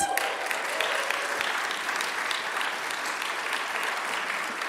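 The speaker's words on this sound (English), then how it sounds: "deserves another round of applause" Sustained applause from a crowd at a People's Budget political rally, a dense, steady wash of many hands clapping at even loudness for the whole stretch, with no voices standing out.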